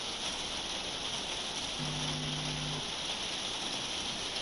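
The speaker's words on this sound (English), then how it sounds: "Apologies if you can hear the rain as well, there's nothing I can really do, it's absolutely bouncing it down." Heavy rain pours down in a steady, dense hiss that fills the whole stretch, loud and constant, with a brief low hum partway through.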